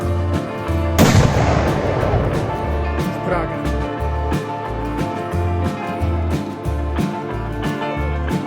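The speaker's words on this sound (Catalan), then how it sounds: "a punt de disparar el canó" A historical cannon fires with one loud, sharp boom at a siege reenactment in Cardona, its rumble trailing off as crowd chatter and outdoor noise continue beneath.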